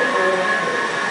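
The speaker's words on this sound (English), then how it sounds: "There's a train arriving." A Washington Metro Orange Line train pulls into East Falls Church station in Falls Church, Virginia, a steady, loud rumble and hiss with a high tonal whine running throughout, no voices.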